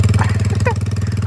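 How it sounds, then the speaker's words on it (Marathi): A Royal Enfield Bullet motorcycle idles close by with a steady, even, low thumping beat. Brief faint voices come through above the engine. "चालू मम्मी बुलेट चालवला बुलेट."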